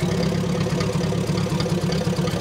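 Vehicle engine left running at idle, a continuous low rumbling drone with a steady pulsing throb, close and fairly loud, without talk.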